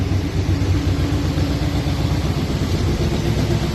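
A 1966 Plymouth Fury V8 idles steadily while warming up, showing slight blow-by. The engine gives a continuous, loud, even rumble with a low throb throughout and no voices.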